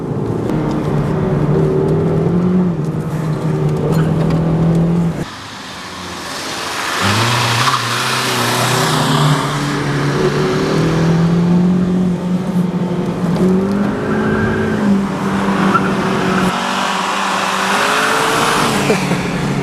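A Volkswagen Polo GTI engine revs and strains through tight corners, with tires squealing and spinning as it accelerates, loud and close throughout.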